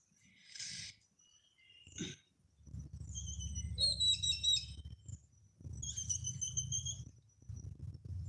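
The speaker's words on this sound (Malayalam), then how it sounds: "രാവിലെ തന്നെ നമുക്ക് ഈ കിളികളുടെ സൗണ്ടൊക്കെ അങ്ങനെ കേൾക്കുമ്പോൾ" Birds chirp and tweet in short bursts over a low, steady rumble, with a few brighter whistled calls in between.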